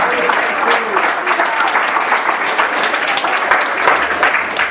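A church congregation applauds in sustained, dense clapping that stays loud and steady for several seconds, with a few voices mixed in among the crowd.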